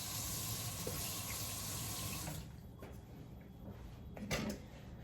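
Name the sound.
rinsing a spatula under the tap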